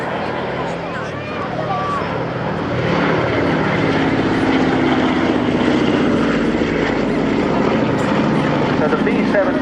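A Boeing B-17 bomber's piston engines drone at an air show, a steady loud propeller rumble that swells louder after a few seconds and holds, with people talking over it.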